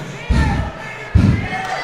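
Crowd at a live wrestling event roaring in two short loud bursts less than a second apart, close and full.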